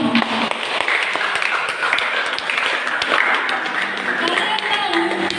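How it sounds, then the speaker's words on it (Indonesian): A church congregation claps together during a sermon, a dense, close, continuous patter of hands with a voice speaking over it. "Tepuk tangan."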